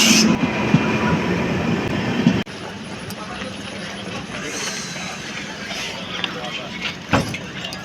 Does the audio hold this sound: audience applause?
no